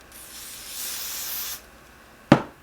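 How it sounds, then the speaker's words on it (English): Hairspray hisses from a can onto the lace of a wig in one steady spray of about a second and a half, followed by a sharp single click or tap, close and alone. "You only want to spray this spray on the actual lace."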